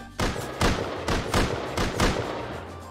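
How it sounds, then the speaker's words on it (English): Gunfire in Rust aimed at the player, five or six loud evenly spaced shots ringing out in quick succession and then a brief fading tail. "Oh, I'm being shot at."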